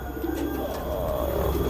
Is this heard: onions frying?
no